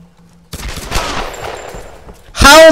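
Rapid gunfire in the Tomb Raider video game, a dense burst of shots running about two seconds after a quiet start, then a loud closing blast with a ringing tail.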